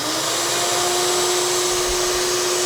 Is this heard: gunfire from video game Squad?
no